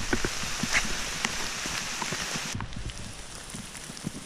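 Rain falls on the Ouachita Trail near Horsethief Springs, a steady dense patter with scattered nearby drop hits and rustles, close and even throughout.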